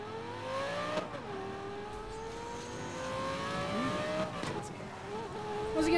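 A Buick racing in the video game Need for Speed Most Wanted accelerates through its gears, each upshift dropping the whining engine pitch before it climbs again, with faint tire and road noise and a quiet mix overall.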